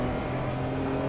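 A GT3 Cup race car engine in the Assetto Corsa Evo driving game holds a steady, buzzing note for about a second. The tone stays even, with no talking over it.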